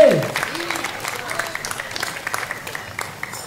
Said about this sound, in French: merci beaucoup pour vos applaudissements chaleureux et nourris